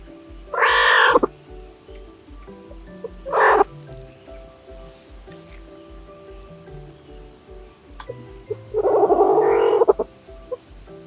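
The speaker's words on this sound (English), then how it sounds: "Take a listen to the Güiña's vocalization" Güiña, a small South American wildcat, gives three loud, harsh yowling calls, one long, one short and another long, with quiet pauses between them over a low steady hum.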